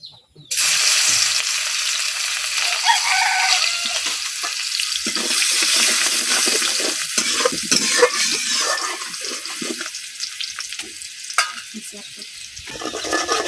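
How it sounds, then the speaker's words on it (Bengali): Chopped onions dropped into hot oil for a Bengali fish curry, bursting into a loud, continuous sizzle that stays strong throughout as they are stirred, with a few scraping clinks. "এখন আমি কাটতে রাখা পেঁয়াজগুলো দিয়ে দেব"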